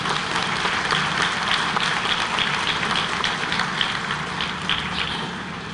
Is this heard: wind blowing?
no